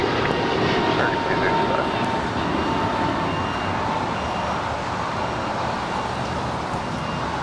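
A Qantas Boeing 777 bound for Sydney rumbles at LAX as a steady, broad jet-engine roar holding at constant loudness, with a faint hiss and distant airport traffic.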